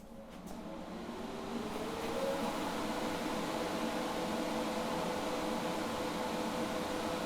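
A Primeweld TIG225X welder is switched on and its cooling fan spins up from a click into a steady, close whooshing drone that holds evenly throughout.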